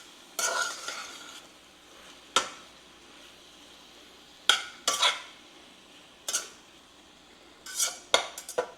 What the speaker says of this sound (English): I'm gonna let that sausage and shrimp heat up just a minute before I put that bacon in there